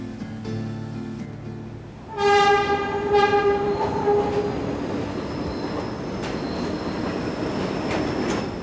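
A New York A-train subway train sounds its horn loudly and close by, a sustained tonal blast with a shorter second one, over the continuous rumble and rattle of rail cars.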